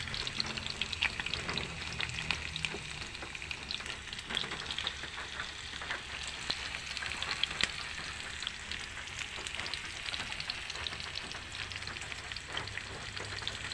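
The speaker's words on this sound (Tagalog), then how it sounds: "Next na po natin lulutuin yung buro." Buro, fermented rice, frying in a pan for pakbet, a continuous soft sizzle with crackles and occasional stirring scrapes, faint and close with no voices.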